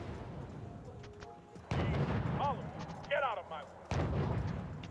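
Shots fire in the Wargame AirLand Battle strategy game as a few sharp, heavy reports with rumbling tails, spaced a second or so apart, while someone talks over them.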